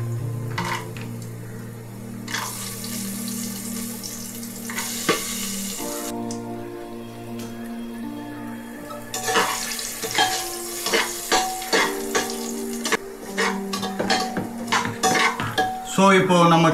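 Ground spices and cashews fry in ghee in a pan, a steady sizzle under repeated metal spoon scrapes and clinks against the pan, the stirring growing busier and more rhythmic toward the end.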